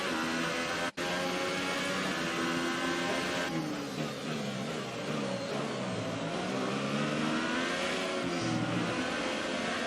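Formula 1 race car engine in the F1 2018 game at the Chinese circuit, a loud, sustained high-pitched whine climbing through gears along the back straight, with brief shift dips and no talk.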